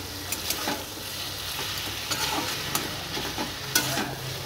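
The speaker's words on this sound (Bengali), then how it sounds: "এবার আবার নাড়াচাড়া করে নিচ্ছি।" Fried hilsa fish heads being stirred in a cooking pan, with steady scraping strokes and light sizzling that come close and continuous, plus a few sharper clinks from the spoon.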